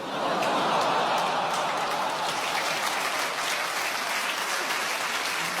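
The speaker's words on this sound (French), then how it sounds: "Oh, il vous fallait ça pour applaudir." A comedy audience applauds steadily through the whole stretch, a dense, even wash of clapping with a faint chuckle or two mixed in.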